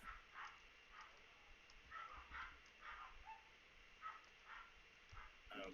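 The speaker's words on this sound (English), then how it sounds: "apologize if you hear dogs in the background." Dogs bark and whimper faintly in the background behind a quiet indoor tabletop game session, with several short, intermittent yips spread across the clip.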